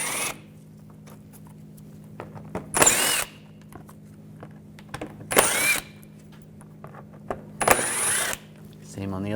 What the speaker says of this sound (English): you're going to switch to a T25 socket. Take these screws out.